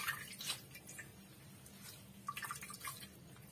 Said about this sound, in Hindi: ऐसे ही हम अब सारा पानी निकाल लेंगे आंवले से।